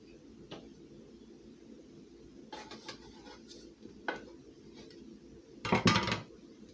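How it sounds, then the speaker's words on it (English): Greased pan handled while dough is moved into it, quiet kitchen clinks and a few scraping knocks, ending with a louder metallic clatter near the close. "So now I'm gonna transfer my dough into my pan."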